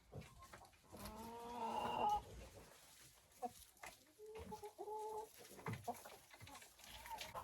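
Hens clucking and calling inside an unheated winter chicken coop, several birds overlapping in a busy, fairly close chorus of rising squawks and short clucks, no talk over them.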